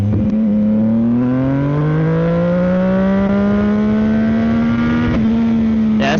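Tuned CFMOTO 675SS sport bike engine revving hard while ridden, a loud, steady note climbing smoothly in pitch over about five seconds before briefly dipping and picking up again.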